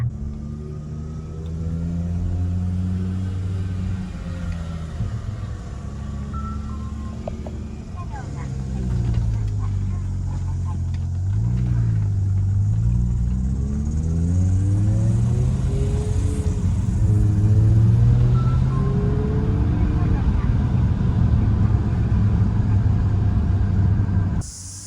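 A neglected V10 BMW E60 M5 drives along, its engine rumble rising and falling steadily with shifting tones through changing revs.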